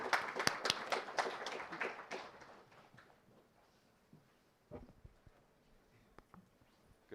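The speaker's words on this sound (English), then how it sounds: "let's give a round of applause and let's get started." A small audience at an AI conference claps briefly, a sparse burst of applause that quickly thins out into scattered faint claps and room noise.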